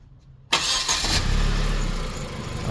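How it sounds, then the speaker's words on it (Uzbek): A Hyundai Genesis 2-litre turbo engine cranks and catches abruptly after a quiet moment, then settles into a steady, loud idle running alone in a workshop. "Bunisi Hyundai Genesis 2 litrli turbina motor"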